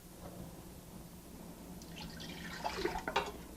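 Water poured into a pot of seitan cooking stock with vegetable stock, spices and tamari, splashing in several short bursts toward the end over a low background hum.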